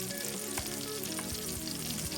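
Italian sausage and fennel meatballs sizzle steadily in a frying pan, a close, continuous crackling fry with faint stirring and no talk.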